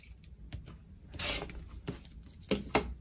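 Scissors cutting green material for a decorative platter, heard as a few close, soft snips and rasping scrapes spaced irregularly in a quiet room, with no talk.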